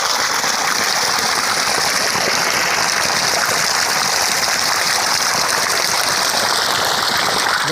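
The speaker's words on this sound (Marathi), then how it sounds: "भरपूर पाणी मारते जी.के एनर्जी पंप" Water gushes hard from a pipe fed by a GK Energy 3 HP solar pump on a borewell in a farm field, a loud, steady rushing splash with no pauses.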